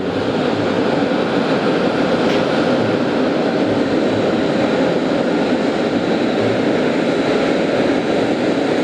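A large jet at JFK airport gives off a loud, steady roar with a broad rumbling hiss that holds constant throughout and stands alone without talk.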